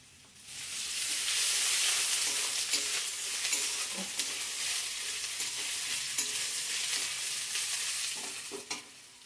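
Ginger and a little five-spice (panch phoron) fry in a pan with a steady, loud sizzle, stirred with occasional scraping clinks throughout, no voices.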